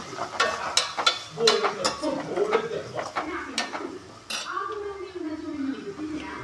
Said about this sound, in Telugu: సో కరివేపాకు ఆయిల్లో ఫ్రై చేసుకున్నాం ఆనియన్.